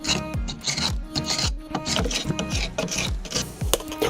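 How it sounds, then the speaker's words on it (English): A hand scraper works old paint off a surface, making rapid rough rasping strokes in a steady back-and-forth rhythm, close and fairly loud, with a low hum beneath. "The first step was to scrape off as much old paint as possible."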